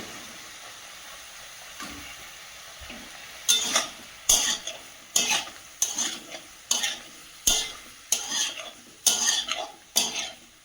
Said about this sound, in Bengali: এর মধ্যে দিয়ে ভালো করে কষাবো সবজিটা